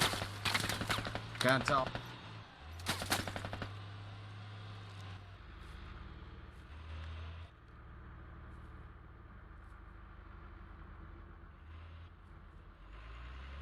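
Gunfire in the military shooter Squad as militia fighters return fire near a compound, with sharp bursts early on over a low vehicle engine rumble, then quieter background fighting while someone talks.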